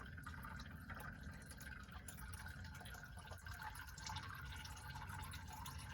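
Engine oil from a 2015 GMC Denali Duramax LML diesel drips steadily from the drain into a catch pan, a continuous faint patter of liquid with a low background hum and no talking.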